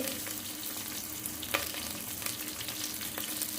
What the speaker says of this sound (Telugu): ఆయిల్ వేసుకున్న తర్వాత దాంట్లో ఆనియన్స్ వేసుకోవాలి ఆనియన్స్ పచ్చిమిర్చి